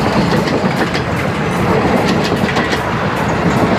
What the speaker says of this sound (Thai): ตอนนี้รถไฟวิ่งผ่านแล้ว